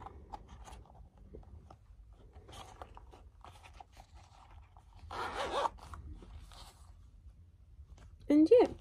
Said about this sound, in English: And this is the zip in the wallet.